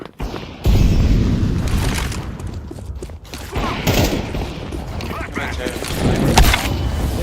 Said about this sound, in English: I'm throwing a flashbang. I'm throwing a flashbang. Molotov.